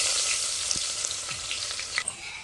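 Chopped onion drops into hot oil with curry leaves for a chicken curry, keeping up a dense, steady sizzle with a few faint clinks and stirring knocks, no speech.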